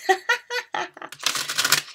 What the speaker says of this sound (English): sometimes the deck just needs a really good shuffle